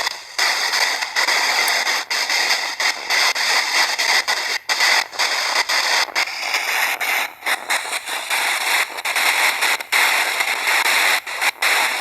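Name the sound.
white noise static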